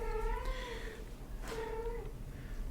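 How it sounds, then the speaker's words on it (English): A cat repeatedly meows as she calls to her kittens, two drawn-out, wavering cries close by over a steady low background hum. "Cat's calling to her kittens."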